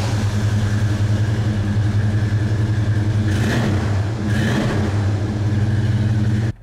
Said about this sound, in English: yacht-like burble to this thing, this big block V8. Oh, it sounds so good.